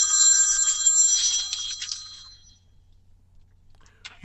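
A loud, harsh telephone bell rings continuously for about two seconds, then cuts off and decays, leaving near silence with a faint click at the end.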